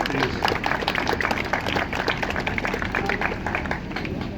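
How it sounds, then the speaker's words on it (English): A crowd at the Transdev Burnley Queensgate bus depot open day gives a sustained round of applause, dense and even clapping that carries steadily throughout at a fairly close, lively level. "A round of applause for all those guys as well"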